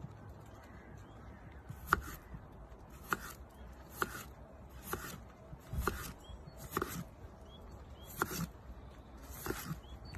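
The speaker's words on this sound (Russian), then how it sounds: "Сейчас нарежем мы картошку" A folding fillet knife cuts potatoes into thin slices for chips, producing about eight sharp, evenly spaced slicing cuts against a board over a quiet room.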